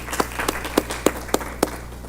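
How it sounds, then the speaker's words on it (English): Slow, sparse hand claps at a Board of Education meeting honouring students, about seven distinct claps spaced evenly apart, fairly faint over a low background hum. "we need to give them a big round of applause"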